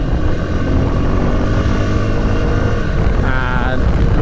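A Suzuki V-Strom 250 SX motorcycle engine roars steadily up close with heavy wind rush, the pitch rising slightly near the end as it accelerates.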